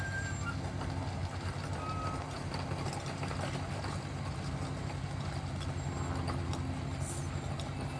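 A van slowly driven into a repair shop for ball joint work, its reversing beeps sounding steadily over a constant low engine rumble at moderate distance.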